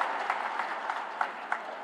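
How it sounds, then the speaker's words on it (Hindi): Applause from an audience at a public ceremony honouring Union Minister Nitin Gadkari at the inauguration of the Mahatma Gandhi Setu's western flank, a steady wash of many hands clapping with a few louder bursts. "नितिन गडकरी के सम्मान में जोरदार ताली लगाइए"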